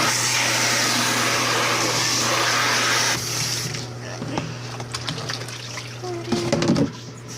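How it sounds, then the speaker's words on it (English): Water from a tap rushes loudly into a rabbit litter box being rinsed of soapy residue, a steady gush that stops partway through, followed by scattered splashes and plastic knocks. "So I'm just gonna wash it out one last time like this."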